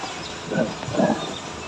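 A heavy-duty used-oil burner stove with a blower set to level 3 gives off a steady, broadband roar of flame and air. It swells briefly in the middle of the clip and stays close and moderately loud.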